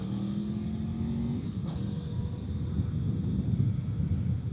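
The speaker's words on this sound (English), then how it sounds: "while I'm trying to get through rush hour traffic, which is a total clusterfuck" Car driving through congested rush hour traffic, with a steady broadband engine and road rumble close by, a low engine tone easing off after the first second and a brief whoosh partway through; no talking.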